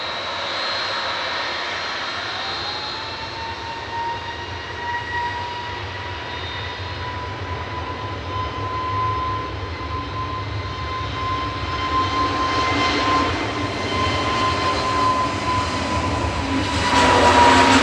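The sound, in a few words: Jet2 passenger jet departing Manchester Airport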